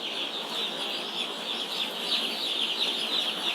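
Young broiler chickens on their first day at a farm give a dense, continuous high peeping chorus, steady and fairly loud throughout with no talking.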